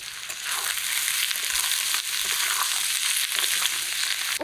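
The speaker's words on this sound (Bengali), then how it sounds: "কড়াইতে সর্ষের তেল দিয়ে ওগুলো ভাজতে বসিয়ে দিই" Pieces steamed with salt and turmeric fry in mustard oil in a kadai, likely for goat liver chorchori with jackfruit and potato, making a loud, continuous crackling sizzle with small bursts, close by and without speech.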